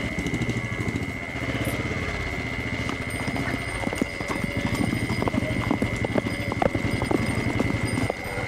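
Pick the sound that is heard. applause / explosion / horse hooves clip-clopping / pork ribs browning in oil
horse hooves clip-clopping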